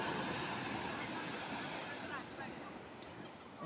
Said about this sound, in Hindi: और देखें, हम लहरें मेरे पास आ रही है अभी।